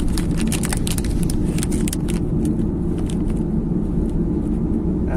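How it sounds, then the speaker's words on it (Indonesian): Inside a car travelling on the road to Puncak, a steady, loud engine and road rumble fills the cabin, broken by frequent light rattles and clicks. "Namanya juga lagi di mobil."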